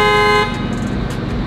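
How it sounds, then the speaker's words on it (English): A car horn, set off remotely by a key fob, gives one short, loud toot that cuts off abruptly, leaving a quiet outdoor background. "Honks my horn remotely."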